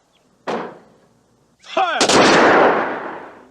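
A rifle volley fired on command in a military ceremony sounds as a sharp blast that echoes away, followed by a shouted command and then a louder, longer booming volley with a rolling tail.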